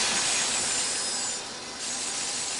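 A moving saw blade in the video game LIMBO gives a steady, loud, hissing grind that dips slightly toward the end, with no speech over it.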